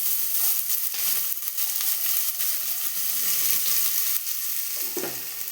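Cut cabbage sizzles in a pan with curry leaves and mustard seeds for Kerala-style cabbage thoran, frying steadily and loudly with occasional scraping stirs and no talking.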